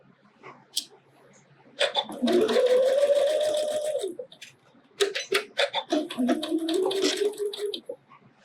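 A sewing machine stitches a quilt block in two loud, rapid whirring bursts of a couple of seconds each, close up, with a brief pause between them and faint clicks around them.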